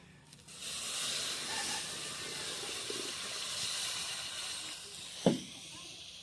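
Water pours into a hot pan for a sea crab curry with a loud steady sizzling hiss that fades slowly, and a sharp clatter near the end.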